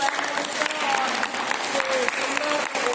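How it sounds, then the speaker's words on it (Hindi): A church congregation claps loudly and steadily in praise at a Hindi-language worship gathering, a dense continuous wash of many hands with brief vocal sounds woven through. "तो हम लोग ईश्वर के लिए जोरदार ताली बजाएंगे।"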